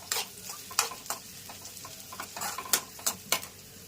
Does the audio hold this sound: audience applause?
no